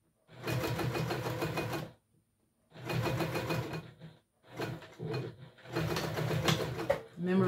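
A sewing machine top stitching T-shirt fabric runs in four bursts of rapid needle chatter, each a second or two long and separated by short pauses, close and clear.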